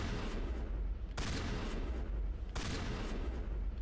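Gunfire in the Mass Effect: Legendary Edition video game, a dense continuous roar of shooting with two sharp bursts standing out, loud and close, with no talk.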